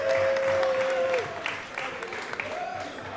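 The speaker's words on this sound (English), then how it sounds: "So can we give a round of applause to the postseason," An audience at a high school football postseason event applauds in a dense, steady clatter of clapping that fades slightly, with a voice speaking over the start.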